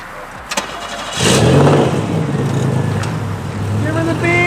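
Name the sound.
Pontiac 6000 AWD engine revving under throttle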